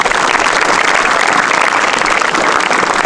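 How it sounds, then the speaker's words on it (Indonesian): Hundreds of high school students in Malinau applaud together, a loud, dense, continuous clatter of many hands at close range with no speech over it. "Tepuk tangan dulu untuk anak muda"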